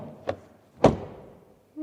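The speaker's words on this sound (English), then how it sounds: "And what about the rear door closing sound?" The rear door of a Mazda SUV shuts with a faint click and then one solid, damped thud, followed by a quiet tail of cabin noise.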